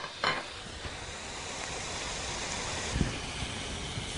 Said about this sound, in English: And as I put them on, get a nice searing sound